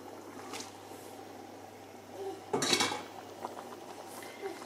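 Pasta stirred into a creamy melted-cheese sauce in a pan, heard as soft clinks and scrapes of a utensil against the pan with a louder clattering burst midway, fairly quiet and close.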